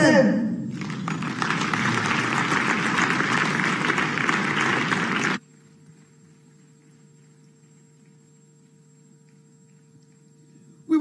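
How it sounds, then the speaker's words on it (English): Applause for the judges at a live teachers' awards ceremony: a dense, steady crowd of clapping fills the hall for about five seconds, then cuts to a quiet mains hum. "please stand and let's clap for them"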